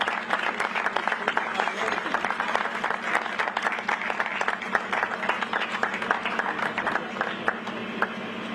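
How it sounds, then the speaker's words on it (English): A crowd at an outdoor Juneteenth flag raising ceremony in the City of Revere applauds Michelle, steady dense clapping sustained throughout with voices and cheers mixed in. "Everyone stand up and give Michelle a round of applause."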